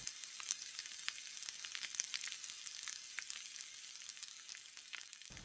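French fries deep-frying in hot oil give a steady, bright sizzle with scattered pops and crackles throughout, close and continuous, with no voices.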